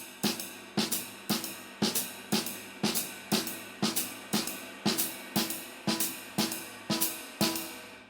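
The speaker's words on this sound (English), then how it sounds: "We are going to be playing time in my ride cymbal and my hi-hat, and now my left hand, my snare," A jazz drum kit plays time on a ride cymbal and hi-hat while the snare hits off beats on every beat, giving an even, crisp pulse of sharp strikes with ringing cymbal decay, close and alone.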